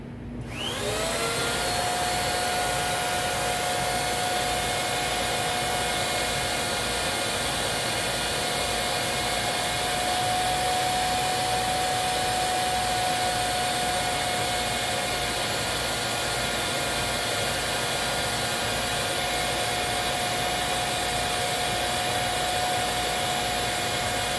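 A Kenmore Magic Blue vacuum cleaner runs at full power during a suction test at the end of the wand, giving a loud, steady roar with a high whine that starts abruptly and holds without pause.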